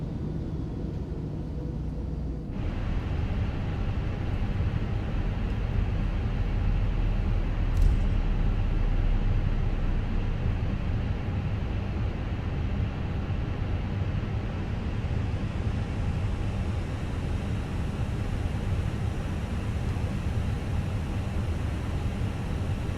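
Airbus A321 jet engine running steadily in an MSFS 2020 flight simulation, with engine number 1 kept on; a continuous loud low roar and rumble holds throughout after a quieter opening few seconds.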